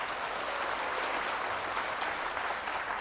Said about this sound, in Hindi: ज़रा सब मिल के ताली बजा दो।